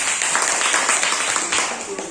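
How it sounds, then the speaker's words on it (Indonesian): A primary school class claps hands together, a brief burst of scattered clapping in a classroom with a voice speaking over it. "tepuk tangan dulu"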